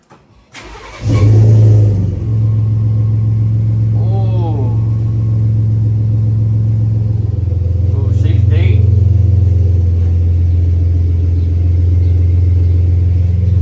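A car engine fitted with a new dual exhaust starts, then settles into a deep, loud, throaty idle, with a couple of short revs rising and falling partway through and voices briefly underneath.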